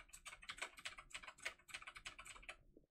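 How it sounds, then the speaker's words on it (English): Quick, quiet clatter of keys being typed on a computer keyboard close to the microphone, a dense, uneven run of light clicks lasting a few seconds with no talking. "I'm typing on keys."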